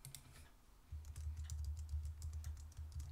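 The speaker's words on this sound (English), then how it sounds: "So I'll just type that in now." Quick irregular clicks of keys on a computer keyboard as a password is typed during setup of an ASUS ZenWiFi XT9 mesh router, close and steady over a low background hum.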